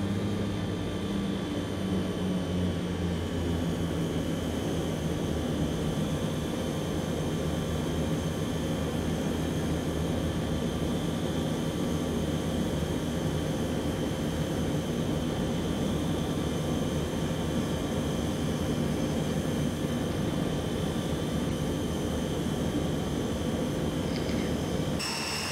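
Steady, continuous engine drone from a Hawker Siddeley HS 748 turboprop in the Prepar3D flight simulator as power is brought back, a sustained hum with faint tonal whines and no talk.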